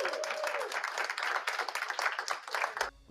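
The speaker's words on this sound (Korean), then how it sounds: "생중계로 상황을 지켜본 미 항공우주국 나사 연구원들이 환호를 보냅니다" NASA researchers cheer and applaud the OSIRIS-REx sample capsule's landing in the Utah desert, a dense burst of clapping and shouts from a room of people that cuts off abruptly at the end.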